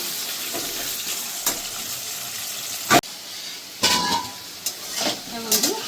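Potato and taro pieces are lightly fried in a pan. A steady, soft sizzle runs throughout, broken by several sharp clanks of a spatula against the pan.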